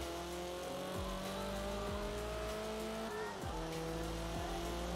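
A race car engine at full throttle in Forza Motorsport 7 on the Yas Marina circuit, a loud continuous high-revving drone with several sharp upshifts and a brief tire squeal.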